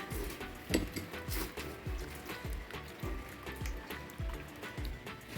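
A pot of beef with whole spices is set on a kitchen stove, giving a series of light metallic clinks and knocks in a steady rhythm over a soft liquid background, close and moderately loud.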